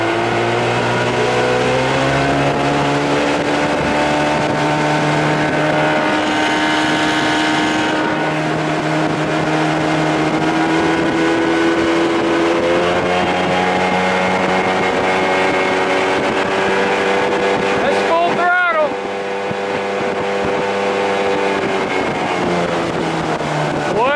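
An Evinrude 30 hp outboard motor pushes a boat near full throttle, a steady loud droning whine with wind buffeting the microphone, the pitch shifting slightly as the run goes on.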